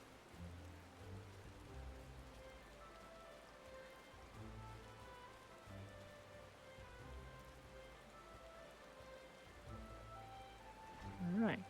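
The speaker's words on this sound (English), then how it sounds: "clearly we must go in out of the rain" Steady rain falls over the forest town of Gridania in Final Fantasy XIV, a constant soft patter beneath tonal in-game music, swelling briefly at the very end.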